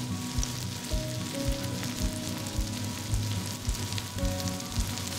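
Croaker fish jeon sizzles steadily as it pan-fries, a dense crackling hiss with soft, irregular low pops running throughout.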